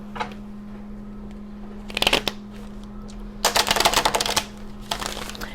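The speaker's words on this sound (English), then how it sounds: "these cards have also been pre-shuffled, but I'm gonna give it a shuffle on camera" Tarot cards are riffled in two quick rattling bursts, close and crisp, over a steady low hum with no talking.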